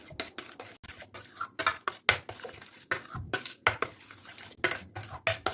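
Milk and crushed biscuit mixture for halwa is stirred in a pan with a utensil, giving a busy run of close scraping clinks and knocks against the metal in an uneven, continuous rhythm.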